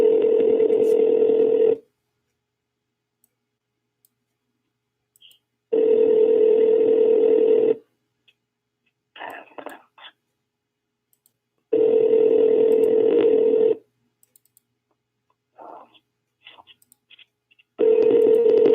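Telephone call tones ring out while waiting for someone to answer: long, loud steady tone bursts of about two seconds repeat roughly every four seconds, with brief faint clicks and rustles in the gaps.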